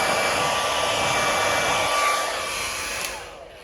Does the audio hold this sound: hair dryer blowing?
yes